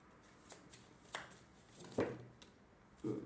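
Tarot cards are shuffled by hand in a few soft, scattered riffles and taps, quiet and close, with no talking.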